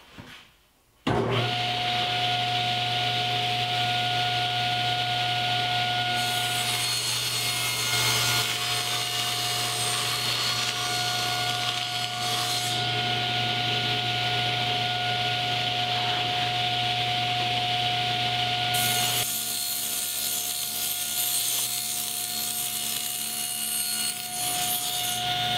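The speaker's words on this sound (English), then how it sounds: "I finished ripping the sides on the table saw" Table saw ripping the side panels of a paint can storage cabinet, a loud steady motor whine with a constant tone and a rough cutting rasp that shifts in texture as the board feeds through.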